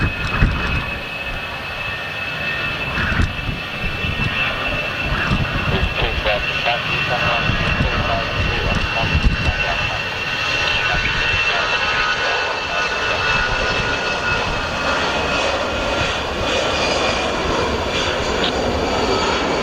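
Airplane at Luton Airport taking off down the runway, a loud sustained engine roar with rumbling that holds steady over a long stretch, while a person talks nearby.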